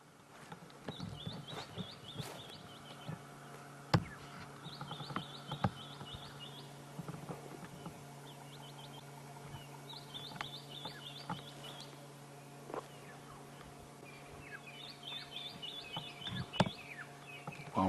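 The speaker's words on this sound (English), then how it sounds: "listen and try to figure out how many different bird species can you hear calling" Various wild birds calling on an African safari: faint, high chirps and short trilled phrases repeat through a quiet outdoor background, with occasional soft knocks and rustles and no talking.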